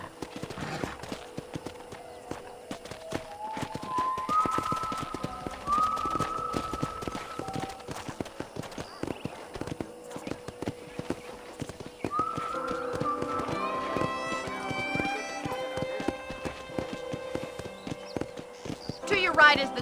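Horse hooves clip-clopping in the Red Dead Redemption video game, a steady rhythmic trot on a ranch, heard continuously under music and spoken dialogue.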